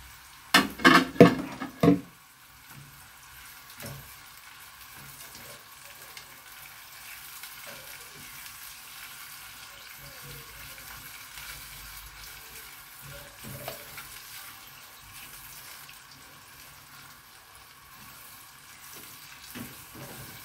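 Peas go into a pot for rice: a few sharp clatters at the start, then a soft, faint frying sizzle with occasional light stirring knocks.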